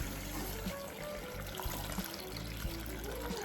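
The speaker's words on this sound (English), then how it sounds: "we're going to add water to it." Water is poured over fresh peanuts in a pot for boiling, a steady trickling, splashing pour that runs continuously and fairly quietly close by.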